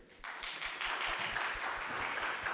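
A church congregation at a Sunday service breaks into applause, a soft, fairly distant patter of many hands clapping steadily for a couple of seconds with no talking over it.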